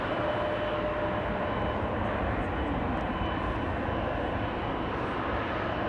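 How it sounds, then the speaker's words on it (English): A Boeing 777-300 airliner departing Amsterdam Schiphol, a steady loud engine roar with broad rushing noise holding throughout, no talking. "777-300 going to Dar es Salaam"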